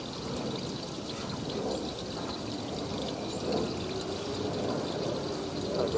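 Water pours and runs steadily through a drain pipe, a continuous rushing flow with mild surges, fairly close and unbroken throughout.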